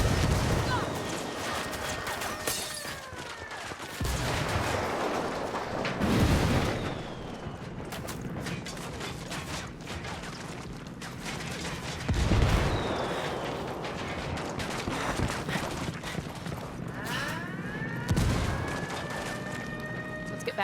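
Ghost Recon Wildlands firefight with bursts of gunfire and several heavy grenade explosions booming at intervals, the shooting continuing between the blasts.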